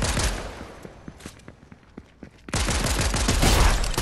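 Gunfire in a video game: a loud burst of rapid shots, then scattered sharp single cracks, then another heavy sustained burst of automatic fire.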